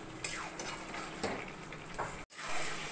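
Mutton curry is stirred in a pan while it fries until the oil separates, giving a soft, continuous sizzle broken by spoon scrapes against the metal.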